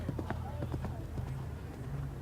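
A horse's hooves thud in a quick clip-clop rhythm on course during a three-day eventing competition, the 2016 Australian International, heard at moderate distance beneath a voice talking.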